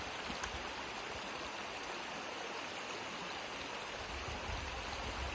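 A large river running high and muddy after rain, where fish come up in numbers, with a steady, close rushing of water throughout and no voices.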